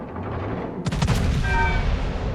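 Heavy naval gunfire from the battleship HMS Vanguard in a naval combat game: a sudden loud salvo of booming shots erupts over a constant rumbling engine and sea background, followed by rolling echoes and a faint high whistling tone.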